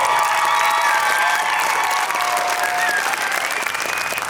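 Spectators at an Icelandic IFBB fitness championship clap for Sigurkarl Aðalsteinsson, named athlete of the year, with sustained crowd applause mixed with cheers and whistle-like tones over it.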